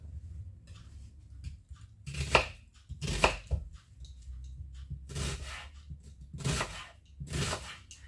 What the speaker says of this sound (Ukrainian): Цибульку нарізали